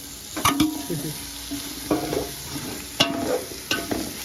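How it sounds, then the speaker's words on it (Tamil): Paneer stirred and fried in a pan for biryani: sizzling oil with intermittent scraping strokes of a spoon, a few sharper clatters standing out, close and fairly loud. "பன்னீரை ஆட் பண்ணுறோம் அடுப்பை கொஞ்சம் குறைக்கிறோம்"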